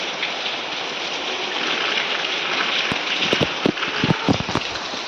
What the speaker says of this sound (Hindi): देखिए यहाँ भी बारिश चालू हो गया। देखिए ये बारिश।